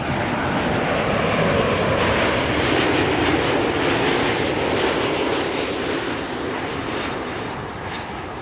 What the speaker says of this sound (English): In the meantime, Caleb Flight 924 arriving from Edinburgh